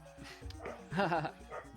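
A few short, close dog barks and yips during a gaming time-trial stream, brief and clustered, with voices talking around them.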